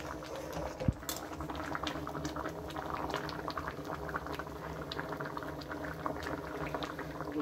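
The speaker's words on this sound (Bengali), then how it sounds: "আর একটু ফুটিয়ে নেবো, টান টান হলে নামিয়ে নেবো" Ghugni, a spiced pea curry, simmers steadily in a pot on the stove, giving a continuous soft bubbling and popping with a faint tap of a utensil near the start.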